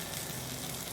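Ginger garlic paste sizzles in a frying pan while cooking shrimp, a steady, dense crackling hiss that stays even and fairly quiet throughout.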